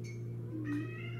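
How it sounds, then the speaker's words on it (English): A house cat gives a single faint meow, distant and brief, over a steady low indoor hum with no talking. "that's my cat"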